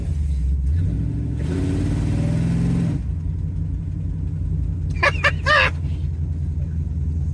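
A 1970 Dodge Challenger R/T clone with a 440 Six Pack V8 rumbles close by in a deep steady drone, with a brief rev swelling in the middle and short speech heard over the engine.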